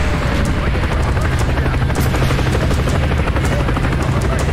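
Helicopter in the shooter game Call of Duty Black Ops, a loud continuous rotor thump with dense chopping blades, mixed with bursts of gunfire and booms close by.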